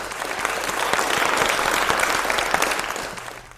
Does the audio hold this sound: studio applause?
yes